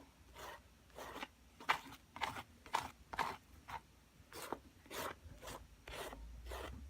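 A scraper spreading neon paint across a mixed media sunflower artwork: a string of short rasping swipes in an uneven rhythm, close but fairly quiet.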